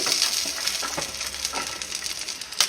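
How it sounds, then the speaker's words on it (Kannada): Garlic, ginger, coriander leaves and spices sizzle steadily in a hot pan, with a continuous close frying hiss and occasional stirring scrapes, no talking. "ಇದನ್ನೆಲ್ಲ ಹಾಕ್ಕೊಂಡು ಹಸಿ ಹಸಿ ಹೋಗೋವರೆಗೂ ನಾನು ಫ್ರೈ ಮಾಡ್ಕೊಬೇಕು"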